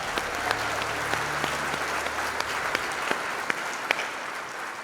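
A crowd applauds steadily at the IAAPA Hall of Fame induction, a dense wash of clapping with a few louder individual claps standing out.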